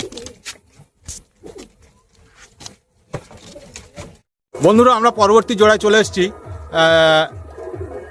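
Andhra pigeons coo in a loft: someone talks quietly at first, then loud, close, throaty cooing follows in rolling bursts.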